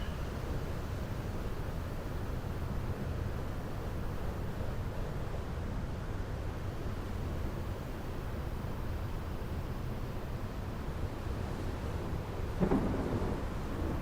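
A thunderstorm rages in the video game Space Engineers: dense, steady rain and rumbling wind fill the whole stretch, with a sharper crack of thunder near the end.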